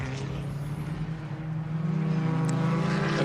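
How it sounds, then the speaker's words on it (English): Porsche Cayman race car at Hallett racetrack, its engine a steady loud drone as it rips around turn 1 and down the straightaway toward turn 2, building slightly toward the end. "Not terrible sounds either of a Cayman ripping around turn 1 down the straightaway at turn 2"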